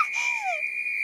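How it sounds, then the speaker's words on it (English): A huge old whistle called Old Rusty, billed as the loudest in the world, blows a loud, steady, shrill tone with a short falling slide at the start, sounding alone for about a second. "Old Rusty, loudest whistle in the world."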